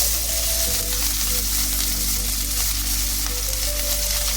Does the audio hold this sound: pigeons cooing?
no